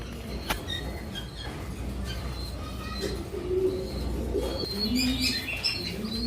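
Young Jacobin pigeons just learning to feed give soft low coos among scattered chirps and a brief flutter of wings, close and moderately quiet, with no voices.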